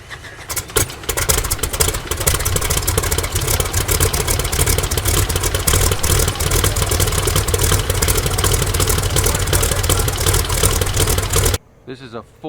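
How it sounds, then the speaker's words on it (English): A Ford 5-window coupe with its top removed, powered by a 1966 Chevy 327 cubic-inch, 375-horsepower V8, idles loudly and close with a rough, lumpy throb for most of the stretch, then cuts to quiet near the end. "The engine is a 1966 Chevy 327 cubic inch, 375 horsepower."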